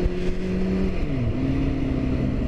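A Kawasaki Z800 motorcycle engine drones steadily while riding, with a loud, close, continuous tone whose pitch drops and then settles as the bike shifts gear, along with some wind rush.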